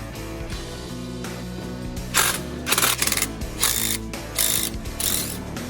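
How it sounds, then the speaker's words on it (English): A ratchet wrench loosening lower strut bolts on a Chevy Colorado ZR2 during a leveling kit install, with fast repeated clicking strokes in several close bursts over a steady background hum and no talk. "It's a tight fit, but you can use the ratchet with a few of them."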